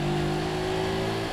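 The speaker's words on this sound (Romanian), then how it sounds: "La plecarea de pe loc, mopedul trage foarte, foarte bine." A moped pulling away from standstill in traffic, a steady buzzing engine tone with a droning low hum, brief and moderately loud, with no voices.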